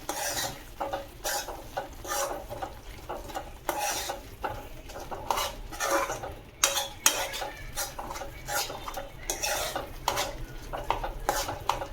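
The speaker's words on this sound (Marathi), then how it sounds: "हा गरम मसाला, एकत्र करून घेऊया." Garam masala stirred in a pan for a spicy crab masala, with a steady scraping clatter of a metal utensil against cookware and a faint sizzle underneath, continuous and close, with no voices.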